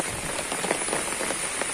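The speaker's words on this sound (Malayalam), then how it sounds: "നല്ല കാറ് കുത്തി മഴ പെയ്യുന്നുണ്ട്" Heavy rain pours steadily, a dense, even hiss of drops drumming on surfaces with no pauses.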